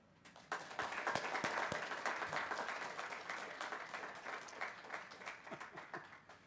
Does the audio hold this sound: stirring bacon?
no